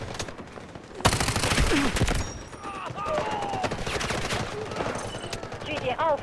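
Rapid gunfire in the mobile shooter game Delta Force: Mobile, with dense bursts starting abruptly about a second in and continuing as loud, crackling automatic fire mixed with game effects.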